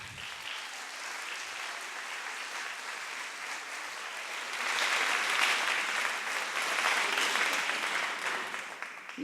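An audience applauds a team at a conference, steady clapping from a crowd that swells louder halfway through and carries on to the end.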